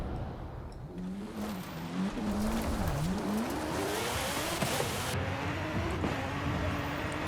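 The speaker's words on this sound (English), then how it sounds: "That crazy transmission whine is so loud from the inside." Porsche in Forza Horizon 5 heard from the cockpit, a steady engine drone with a high transmission whine that rises and wavers as it accelerates downhill, moderately loud and continuous.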